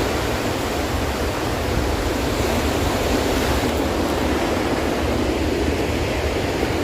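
Sea waves at Royal Palm Beach Park in Los Angeles, a steady broad wash of surf and wind, loud and continuous, with no voices.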